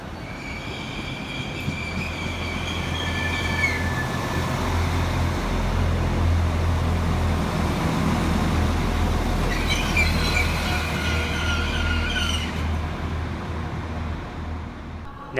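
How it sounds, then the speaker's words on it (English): A Northern Class 195 diesel train pulls into a platform at Manchester Victoria station, with a low rumbling engine, rolling wheel noise and repeated high squeals from the wheels as it slows, fairly close and loud. "Arriving next into the station is 195 109, working the 1106 Northern service from Leeds through to Chester."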